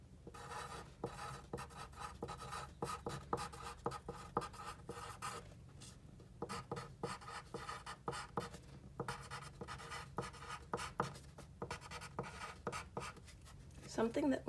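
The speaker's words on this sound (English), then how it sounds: "So I'm going to write that." Pen or pencil writing in a journal, a steady scratchy stroking close by, with soft pauses between words and a voice speaking over it.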